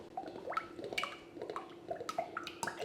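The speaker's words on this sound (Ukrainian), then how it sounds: "Виливаємо наші слівки" Cream is poured into a bowl in a home kitchen, giving soft, quiet glugs and drips in an uneven rhythm, with small splashes close by and no talking.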